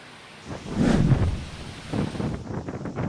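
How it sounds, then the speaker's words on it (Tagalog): Gusty typhoon wind in Isabela, Philippines, surges and moans in waves, buffeting the microphone with a low, rushing roar. "Maririnig pang tila pag-ugong ng hangin."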